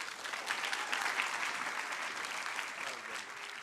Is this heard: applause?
yes